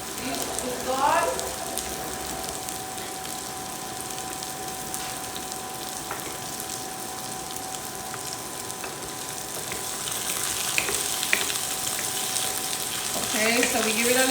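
Salmon sautés in a pan, giving a steady, close frying sizzle that runs the whole time and swells toward the end, with brief clatters of stirring and faint kitchen noise.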